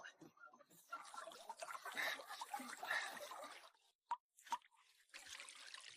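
Groundwater pumped by a basement water pump gushes in a steady splashing flow for a few seconds, breaks off into a couple of isolated drips after a short pause, then resumes running.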